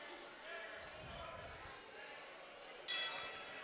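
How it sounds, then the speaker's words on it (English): A boxing ring bell sounds once, bright and ringing, at a Golden Gloves amateur bout in Jackson, Tennessee, cutting through steady arena crowd noise and a commentator's voice. "the referee says ring the bell, and we're back underway"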